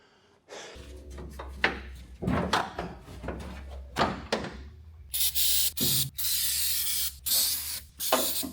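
Lubricant sprays from an aerosol can in a garage working on a Camaro, first as short hissing bursts among clicks and knocks, then as longer loud sustained sprays.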